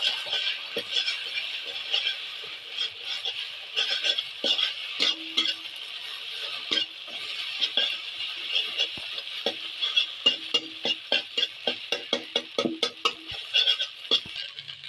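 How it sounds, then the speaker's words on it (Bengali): Beaten egg sizzles in white oil in a wok while a spatula breaks and scrambles it. The frying hiss is steady, and the close metal scrapes and taps grow quicker and more frequent toward the end. "এটা খুন্তি দিয়ে ডিমটা ভেঙে ঝুড়ি ঝুড়ি করে ভেজে নেব"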